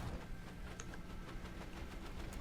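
Boat engine running under throttle in the video game Stormworks, a faint, steady mechanical drone with a low rumble and no voices over it.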